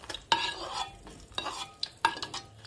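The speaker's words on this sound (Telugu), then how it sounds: "ఇప్పుడు ఇదే నూనెలో టమాటాలు వేద్దాం" Tomatoes go into hot oil left from frying dried red chillies for a tomato-chilli roti chutney, giving close bursts of sizzling with a few spoon-stirring scrapes and no voices.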